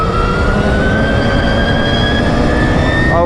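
A Stark Varg EX electric motorcycle gives off a loud, steady high-pitched whine with rising tonal lines over a constant rough rumble, close and continuous throughout.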